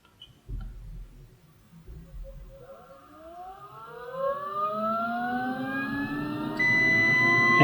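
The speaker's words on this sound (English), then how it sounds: "I will wait for the signal once the inducer starts and that pressure switch closes for the signal from the meter to let me know that I do have continuity." Multimeter continuity tone sounding as a furnace pressure switch closes, preceded by a low thump and a rising whine from the inducer motor spinning up, with a steady electronic beep entering near the end.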